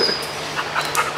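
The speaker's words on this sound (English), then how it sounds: "Oh, he's a good dog." Medium-sized fluffy dog panting in quick, soft, close rhythmic breaths.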